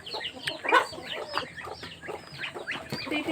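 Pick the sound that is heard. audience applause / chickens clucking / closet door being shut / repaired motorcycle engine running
chickens clucking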